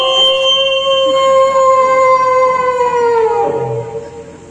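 A stand-up comedian's voice imitates dogs howling in the evening: one long, loud, wavering howl held for several seconds that bends downward and fades at the end.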